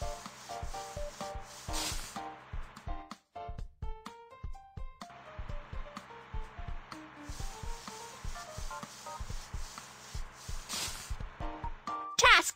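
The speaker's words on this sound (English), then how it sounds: "Move ahead and push the sand into the pit with my large blade." A cartoon bulldozer pushes sand into a pit with its large blade: continuous gritty scraping and rubbing, fairly quiet, running under a bouncy musical score with brief breaks.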